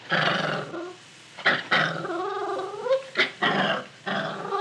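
A dog growls as a radio drama sound effect, with sustained low snarling rumbles broken by short sharp yips and whines, loud and close, with no talk over it.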